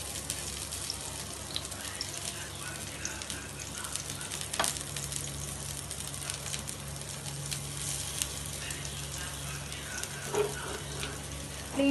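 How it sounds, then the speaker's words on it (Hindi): Green leafy vegetable kababs shallow frying in oil or ghee in a pan, a continuous close sizzle with occasional crackles and a faint clatter of stirring. "हम इसे फ्राई करेंगे।"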